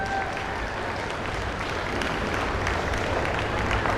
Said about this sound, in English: Let's go ahead and give these kids another round of applause.